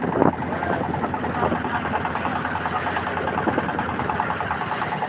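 A trawler boat's engine runs steadily on the river near Gazaria, Munshiganj, a continuous mid-pitched mechanical drone with faint vibration, holding an even loudness throughout with no voices over it.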